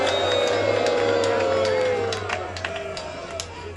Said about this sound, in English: Are you booing or saying Christine?